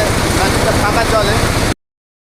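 A paddy threshing machine runs loud and steady, its dense mechanical roar and rhythmic low thumping continuous until the sound cuts off abruptly near the end.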